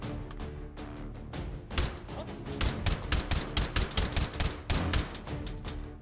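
Rapid gunfire rattles through a Hot Dogs, Horseshoes & Hand Grenades VR game session, sparse shots at first and then dense volleys of sharp cracks in quick succession, loud and close.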